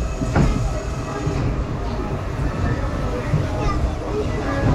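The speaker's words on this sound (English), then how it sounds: "Such a fun roller coaster." Onride sound of the Mine Train roller coaster at Bakken: a loud, steady rumble and clatter of the train running along its track close by, with faint voices mixed in.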